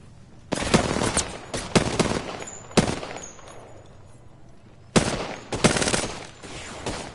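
Loud bursts of automatic gunfire in a PS4 shooter game, several sharp volleys separated by short quieter gaps, the longest lull in the middle before fire resumes.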